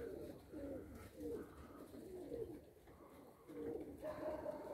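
Domestic pigeons coo in soft, repeated rolling phrases close by in Elbląg, Poland, several calls overlapping at a moderate level against quiet outdoor background.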